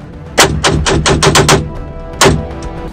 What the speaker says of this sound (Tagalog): Tumunog rapido. Ika nga ng mga pulis parang machine gun.